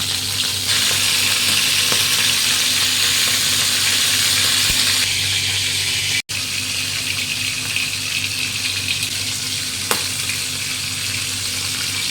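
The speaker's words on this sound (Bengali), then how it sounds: "আর চিংড়ি মাছগুলোকে ভেজে নিচ্ছি" Shrimp fry in mustard oil in a pan, giving a loud, steady hiss and crackle that runs throughout with a few sharp pops, and no talking over it.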